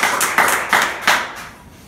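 Several bursts of hand clapping from a church congregation, four short loud surges of applause fading out toward the end.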